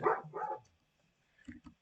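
Two short dog barks from Minecraft, loud and close, come first, then a pause and two softer, more distant yips near the end.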